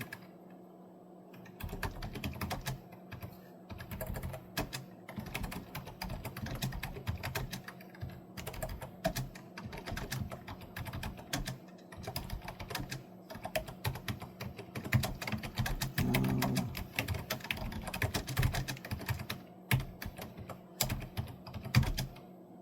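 Hard, fast typing on a computer keyboard, a dense, loud clatter of keystrokes with brief pauses, continuing steadily for a long stretch with no talking.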